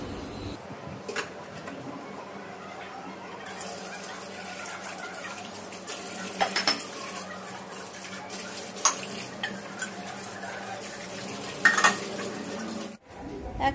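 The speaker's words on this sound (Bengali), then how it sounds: "বাসন ধুয়ে নিচ্ছি" Dishes being washed in a home kitchen, with steady running water under repeated clinks and knocks of pots and cutlery, growing busier and louder toward the end before a sudden cut to near silence.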